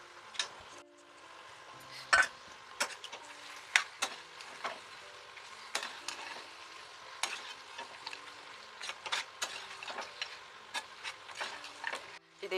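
Cashews are stirred and fried in a pan while gongura pachadi is made, giving a soft steady sizzle broken by repeated sharp scraping and clicking of the spoon against the pan, close and fairly quiet.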